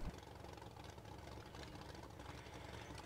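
A truck engine idles in the Spintires off-road driving game, a steady low rumble with a faint knocking pulse running unbroken and fairly close, with no talk over it.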